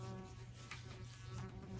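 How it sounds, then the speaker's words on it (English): A housefly buzzes loudly and close, a steady droning hum that carries through the whole moment with no talking over it. "That fly is so loud."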